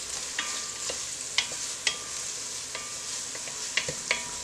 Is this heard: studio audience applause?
no